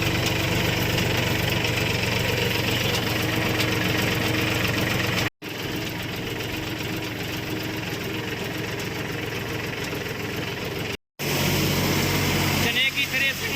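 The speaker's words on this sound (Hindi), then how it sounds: "चने की थ्रेसिंग में महिंद्रा ट्रैक्टर 1900 RPM पर देखिए किस तरीके से काम कर रहा है।" A Mahindra tractor running at 1900 RPM drives a chickpea thresher with a steady, loud mechanical drone and rattling vibration. The sound cuts out briefly twice, and no talk is heard over it.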